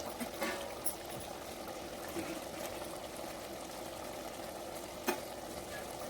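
Crab frying in a pan with only a little oil: steady, close sizzle and crackle throughout, with a few brief louder pops and stirring scrapes.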